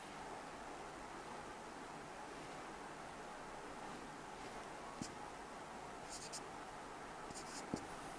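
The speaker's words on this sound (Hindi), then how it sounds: "तो यहाँ लिख देते हैं" Pen writes by hand on paper during an online law lecture, a continuous faint scratchy stroking over a steady noisy background, with a few small taps and no clear talk.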